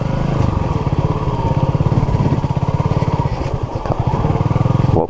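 An old Honda CB250RS motorcycle engine chugging along with a rapid, lumpy pulsing beat, loud and close, steady throughout.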